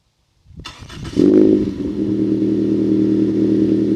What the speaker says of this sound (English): it actually is a loud exhaust. Here, I'll show you guys actually real quick. So I'm going to turn on the car.